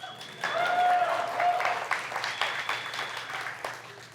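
Audience at a tech conference applauds a product launch announcement, a steady wash of clapping with a whistle or whoop over it, swelling quickly and then tapering off.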